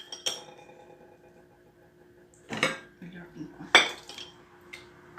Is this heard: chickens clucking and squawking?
no